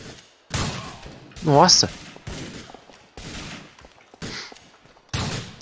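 Gunshots in GTA IV ring out as sharp, evenly spaced bangs about once a second, mixed with voices talking and an exclamation.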